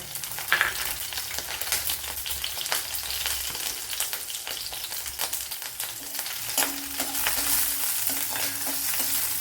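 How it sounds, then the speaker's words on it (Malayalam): Ginger, six or seven garlic cloves and two green chillies sauté with cinnamon in hot oil in a pan, a steady close sizzle punctuated by repeated clicks and scrapes of stirring. "ഇത്ര ഒന്ന് വഴറ്റിയെടുക്കാം."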